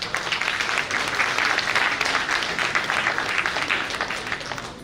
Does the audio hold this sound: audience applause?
yes